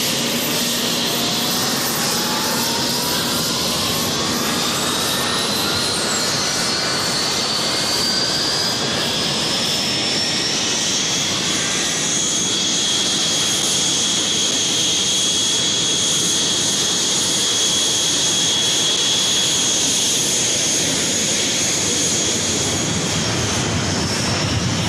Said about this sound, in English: They took off from airfields in southern Argentina, equipped with Exocet missiles, and went in search of revenge.